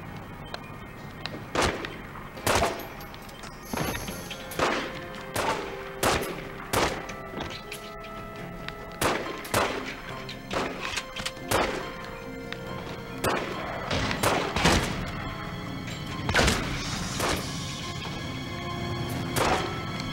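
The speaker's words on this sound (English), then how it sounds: "Starting to get the hang of this shooting stuff in this game" Gunfire from The Godfather Part II video game, with sharp, loud shots fired in irregular bursts and single cracks across a firefight, echoing over a low game ambience.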